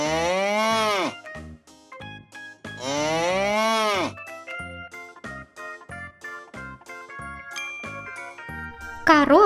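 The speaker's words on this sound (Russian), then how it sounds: "Корова." A cartoon farm cow lets out two long, loud moos, one at the start and one midway, over light chiming children's music with tinkling bell notes.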